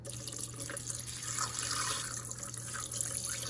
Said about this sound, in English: we're gonna pour in our filtered water.